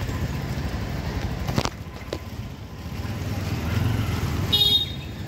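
Busy roadway in the Garhwal hills with motorcycles and cars, a constant engine rumble of passing vehicles punctuated by a short horn toot near the end, heard up close at a roadside.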